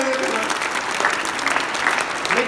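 An audience claps loudly throughout, a dense continuous applause with a voice faintly mixed in.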